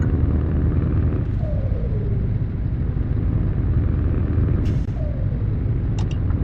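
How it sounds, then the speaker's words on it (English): A heavy truck engine in the driving game Euro Truck Simulator 2 drones steadily with a low rumble throughout, with a couple of faint gliding tones and brief clicks over it. "Oh, I love the sound of this truck."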